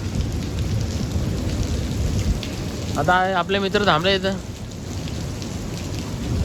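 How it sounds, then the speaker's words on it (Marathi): Heavy monsoon rain pours steadily on surfaces outdoors near a dam, a dense continuous hiss, while someone speaks briefly partway through. "पावसाने पण हजेरी लावले बघू शकता तुम्ही किती पाऊस पडतं"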